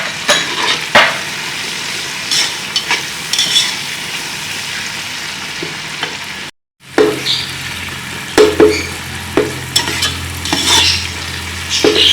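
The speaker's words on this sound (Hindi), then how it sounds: "और इसमें चने डाल देंगे और इनको थोड़ी देर के लिए भूनेंगे।" Chickpeas being fried and stirred in a pan while making chana pulao: steady close sizzling with repeated scraping stirs, a brief drop to silence midway, then louder frying with a low hum.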